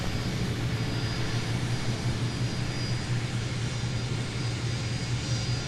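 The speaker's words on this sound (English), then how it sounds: "the winds are 2106, fly heading 145, runway 17, cleared for takeoff" Airliner taking off from runway 17 at Minneapolis airport, a steady broad jet roar with a low engine hum, sustained and fairly distant with no voices.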